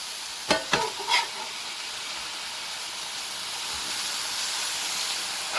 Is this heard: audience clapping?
no